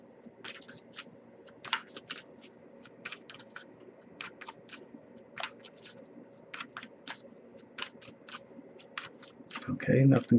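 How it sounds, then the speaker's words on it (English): Tarot cards are shuffled during a love reading, making a string of quick, light riffling taps and flicks close up, with faint room tone and a soft rustle near the end. "I'll give it a few more shuffles."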